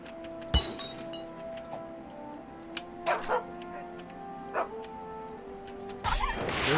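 A dog in the South Park: The Stick of Truth video game barks in a few short, separate bursts, mixed with glassy clinks and game effects over a low background hum.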